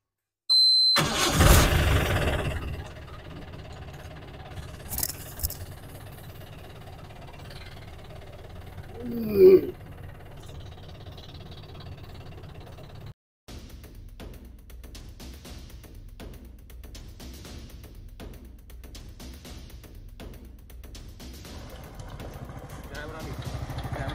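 A motorcycle engine cranks and catches with a sharp burst, then settles into a steady idle that runs on with a brief break, while muffled voices talk nearby.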